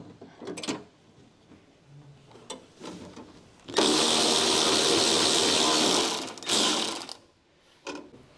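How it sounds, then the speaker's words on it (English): A small electric impact wrench with a 10mm long socket and extension hammers out the exterior door handle bolts on a 1999 Honda Civic EK, one loud rattling burst of about two and a half seconds between quieter clicks and handling noises. "Using the small 10mm long socket with the small long extension bar and small electric impact wrench, remove the exterior door handle retaining bolts."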